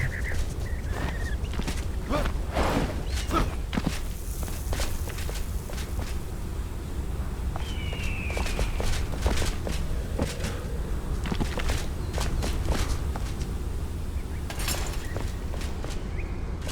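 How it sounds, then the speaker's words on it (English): Footsteps echo in the video game Enshrouded, irregular soft thuds and scuffs scattered over a steady low ambient rumble, moderately loud and seemingly from nearby, with occasional faint creaks. "I hear a whole bunch of footsteps and stuff."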